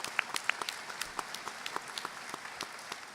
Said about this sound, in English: So for a round of applause for the dignitaries that are here.